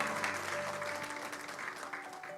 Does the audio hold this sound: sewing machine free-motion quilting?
no